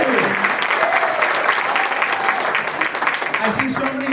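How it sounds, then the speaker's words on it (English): Sustained applause from an audience honoring awardees at an international women's event, a dense, steady roar of many hands clapping that fills the whole stretch, with voices mixed in. "can you give a big round of applause to the awardees again?"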